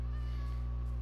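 Single drawn-out meow from a cat in Minecraft, clear and close, tonal and steady for about a second with no talk.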